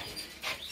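A caged bird sings nearby in a brief burst of bright chirping notes, with no talking over it.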